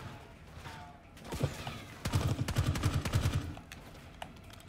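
Automatic gunfire in Call of Duty Black Ops 6 comes as bursts of rapid machine-gun shots, with a short volley early and then a sustained, louder string of shots in the middle before it fades out.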